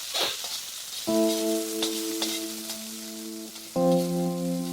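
Onions sizzle and crackle in a hot pan for chicken curry, a steady soft frying hiss running throughout, while sustained musical tones enter partway and sit over the sizzle.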